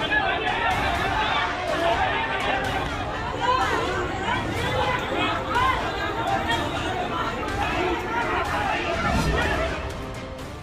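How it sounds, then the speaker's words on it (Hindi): A large, agitated crowd in Agra mobbing a police sub-inspector, a dense babble of many overlapping voices shouting and chattering continuously at close range, with footsteps and movement mixed into the din. "इस भीड़ के शोरगुल से ही लगा सकते हैं।"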